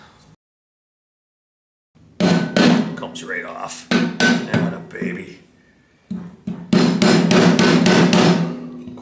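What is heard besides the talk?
rubber mallet striking motor housing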